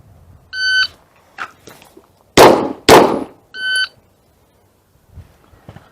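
Pistol shots fired at a target during a shooting drill: two sharp, loud cracks about half a second apart, set between electronic timer beeps before and after.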